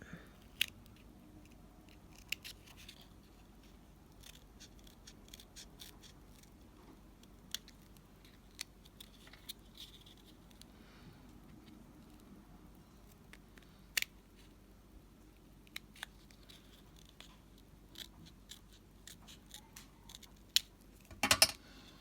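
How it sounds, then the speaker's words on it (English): Tonic snips cut paper for a craft paper village house, making faint, sparse, sharp snipping clicks scattered over a quiet background. "Then I'll just take my tonic snips and cut."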